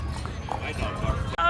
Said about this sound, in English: Oh, they have little pony rides.